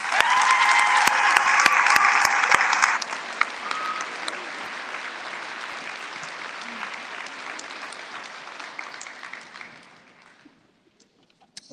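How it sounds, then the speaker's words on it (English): Sustained audience applause at a scholarship night, a dense, loud wash of many clapping hands that gradually thins and fades out to near silence after about ten seconds. "Let's give them a huge round of applause."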